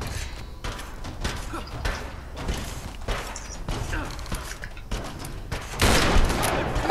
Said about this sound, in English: I thought a shotgun might do something